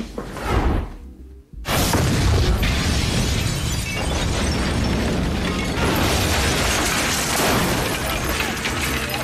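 After a brief hush a big explosion bursts out, then a loud, sustained roaring rumble carries on for several seconds.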